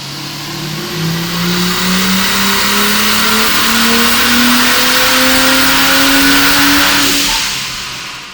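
A turbocharged Ford Falcon six-cylinder engine on a dyno at raised boost, loud and close, holding a long, steadily rising wide-open-throttle pull before easing off at the end.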